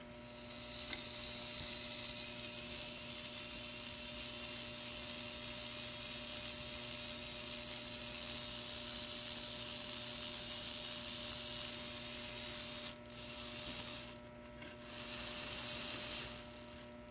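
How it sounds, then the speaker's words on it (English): A 1948 Mantua all-metal Mikado 2-8-2 model steam locomotive runs on a workbench, giving a steady close mechanical whir and buzz of motor and gears that holds evenly, then briefly cuts out and resumes near the end. "I just want to do a little demonstration how this locomotive runs."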